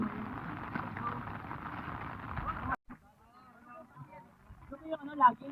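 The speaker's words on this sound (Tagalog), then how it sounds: "Kasalukuyang umuulan pero ang sarap maglakad-lakad kasi hindi siya mainit." A dense patter of rain hisses for a few seconds, then cuts off abruptly, leaving quieter ambience with a person talking nearby.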